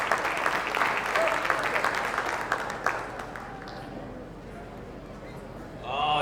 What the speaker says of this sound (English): Round of applause to Justin.